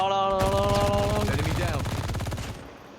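Rapid bursts of gunfire in a battle royale video game crackle over an electronic tone, then trail off as the firing stops.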